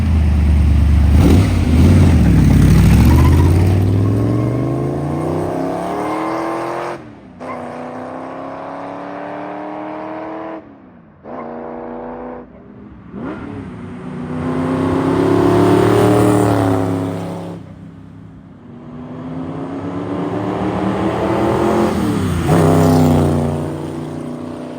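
1965 Shelby GT350 V8 roaring past in loud flybys, engine note climbing through the gears then swelling and fading as the car approaches and recedes, repeated several times, no talk.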